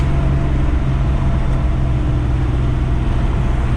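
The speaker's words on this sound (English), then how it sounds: "it's got those two Flowmaster mufflers that turn down and cut off, so it just sounds really good" A 1957 Chevrolet Bel Air with twin turned-down Flowmaster mufflers rumbles steadily while driving, a loud continuous low exhaust drone with road noise and no breaks.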